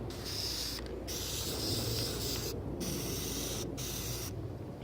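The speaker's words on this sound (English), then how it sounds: "Spray the insides really good." An aerosol can of Plastidip rubber coating spraying the inside of a shield in long hissing bursts, separated by three brief pauses, close and loud.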